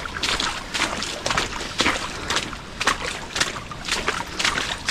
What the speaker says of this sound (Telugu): సౌండ్ వస్తుంది అనుకుంటా స్టెప్స్ వేసేది వాటర్లో